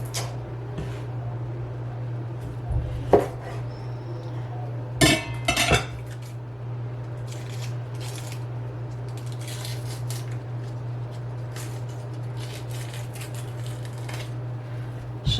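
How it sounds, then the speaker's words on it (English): A knife slicing chunks of kielbasa sausage on a board in a kitchen, producing a few sharp clicks and clatters near the start and middle, with a steady low hum underneath and quiet pauses between cuts. "So I'll just be cutting a chunk for him and a chunk for me"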